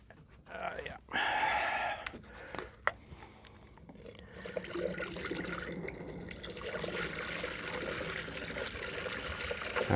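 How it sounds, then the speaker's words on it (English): Water poured from a jug into the coolant tank of a 1906 Reo Model B antique car, a close splashing and trickling stream that rises and continues under a voice. "So we will put more water in."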